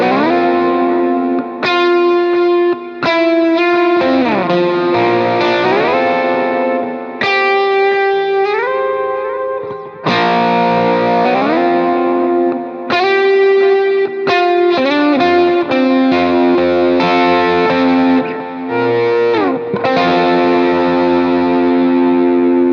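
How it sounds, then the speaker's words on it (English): An electric guitar with a distorted, effects-heavy slide tone is played without a slide, in sustained melodic phrases with chorus and echo, loud and alone. "I'm going to play it without a slide so you can kind of hear that compared to how it sounds with a slide"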